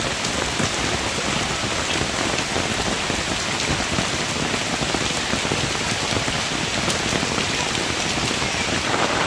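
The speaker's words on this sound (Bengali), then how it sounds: "ভারী বৃষ্টি শুরু হয়েছে" Heavy rain pours down steadily, a dense, loud, unbroken roar of drops drumming on surfaces nearby with no voices.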